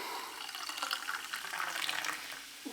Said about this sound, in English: I kind of poured that hard at the end there